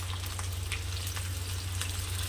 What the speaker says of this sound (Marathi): आता आपण छान फ्राय करून घेऊ तेलामध्ये